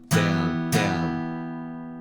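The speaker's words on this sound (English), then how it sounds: "and when you strum, you get that muted sound." Two sharp muted strums on a guitar, each a quick percussive chunk followed by a ringing tail, played close and alone as part of a down-up muted strum pattern from a rock tutorial.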